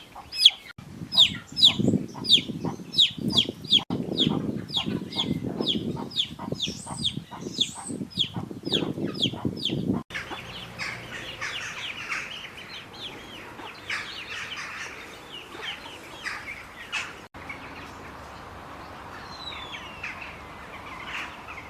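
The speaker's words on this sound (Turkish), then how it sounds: "Civcivimiz gördüğünüz gibi e, sağlıklı, çok sağlıklı yaşamına devam ediyor." A young chick on a farm chirps in rapid, repeated high peeps that are loud and close at first, then continue more faintly and sparsely over a softer background.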